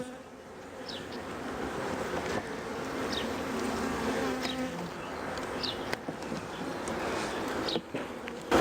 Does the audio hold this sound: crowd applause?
no